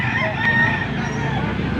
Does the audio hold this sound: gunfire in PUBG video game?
no